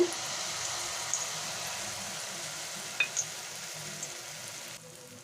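Mango pitha batter frying in a kadai makes a steady, close, moderately loud sizzling hiss, broken by a couple of brief clicks and pops.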